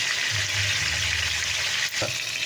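Pork belly sizzles and crackles steadily in hot oil, a constant frying hiss with a brief pop near the end.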